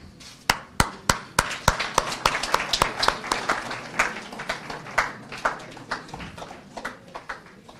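An audience at a strategic plan launch event for the Nairobi Centre for International Arbitration claps as a cake is cut, starting with a few sharp, evenly spaced claps that quickly build into dense, steady applause.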